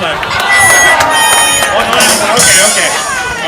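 A live audience at a comedy contest in Hollywood cheers and applauds loudly. The dense, sustained roar of clapping and shouting holds at full strength for a few seconds.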